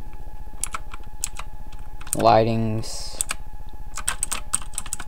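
Typing on a mechanical computer keyboard at a desk setup, quick clean clicking keystrokes in an uneven rhythm, close and clear, with a short spoken phrase in the middle.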